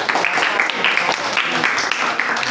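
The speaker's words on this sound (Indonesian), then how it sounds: "Tepuk tangan dulu." Classroom applause from a group of ninth-grade students during a social studies lesson, a steady dense patter of many hands clapping together without pause, fairly close and filling the room.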